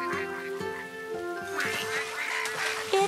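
Cartoon ducks quack in a children's nursery show, a quick series of bright nasal quacks laid over a light cheerful musical backing.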